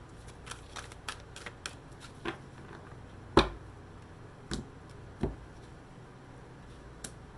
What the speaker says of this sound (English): I'm going to give these a good